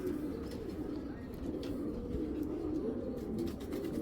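Large king-size giribaz pigeons in a Bangladeshi loft coo softly in low, continuous murmurs, faint and somewhat distant beneath a steady hum of background noise.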